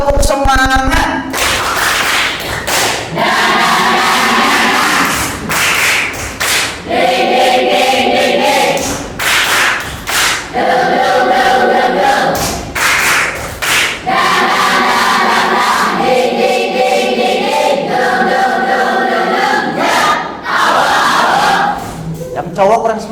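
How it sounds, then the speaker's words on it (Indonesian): A class performs a rhythmic clapping-and-shouting cheer chant, bursts of claps and group voices chanting together in repeated patterns, broken by short pauses and a teacher's voice urging them on. "coba tepuk semangat"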